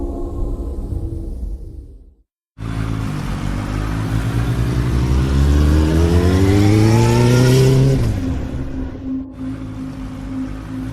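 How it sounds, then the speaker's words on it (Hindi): Motorbike engine at night: after a short silence it starts up loud and close, revving with a steadily rising pitch for several seconds, then drops back to a steady idle, with no voices. "नील बाइक से अपने घर जाने के लिए निकला।"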